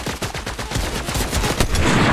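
Rapid enemy gunfire in a video game, a dense run of sharp cracks and bursts close by that keeps building in loudness, with no talk over it.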